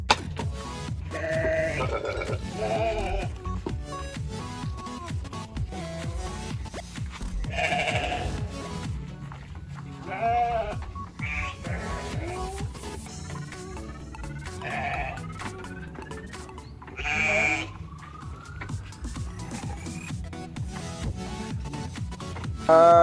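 Goats and sheep bleat repeatedly at a sacrificial goat market in Bantul, Yogyakarta, with several animals calling at varying distances over a steady murmur of crowd and background noise.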